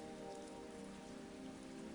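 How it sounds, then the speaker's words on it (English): Steady rain patters against windows in a dense, continuous hiss with no pauses, even in loudness and without any voices. "Rain began tapping against the windows."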